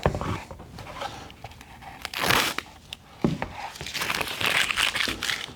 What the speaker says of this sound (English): And then you can take the tape off.